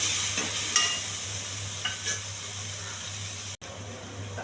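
Potatoes fry with ginger garlic paste in a pan, a constant bright sizzle over a low steady hum, with a few scraping stirs and a brief cut near the end.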